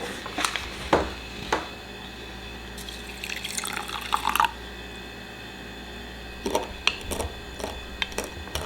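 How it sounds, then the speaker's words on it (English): Tap water runs and splashes into a bowl of sourdough ingredients in a home kitchen, coming in a few short bursts with quiet pauses between them, close to the listener and without talk. "now add water just to cover"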